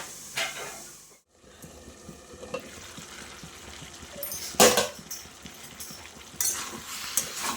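A pot of ash gourd curry is stirred over medium heat: a soft simmering hiss under irregular clanks and scrapes of a spoon, with a brief silent gap early on and a few louder knocks later.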